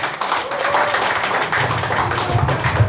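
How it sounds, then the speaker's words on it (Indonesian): Applause for Dokter Tiba at the grand launch of the book Jokowi's White Paper: a crowd claps in a steady, busy patter. The clapping grows fuller and louder toward the end. "Tepuk tangan dong buat Dokter Tiba."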